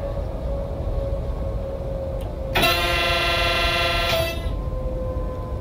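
An ICE InterCity-Express train in Train Sim World 2022 sounds its horn at a level crossing, one loud sustained blast of under two seconds rising over steady engine and rail rumble.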